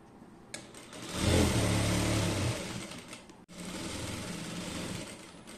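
A sewing machine stitching a skirt hem runs in a steady mechanical whir, rising to a louder stretch before a brief stop and restart, close and without talk.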